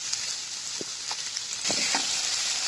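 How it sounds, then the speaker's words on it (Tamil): Onions sautéing in hot oil for capsicum chicken fry, a steady close sizzle with a few soft stirring scrapes near the end, no voices. "முதல் வெங்காயத்தை நம்ம வதக்கிக்கலாம்"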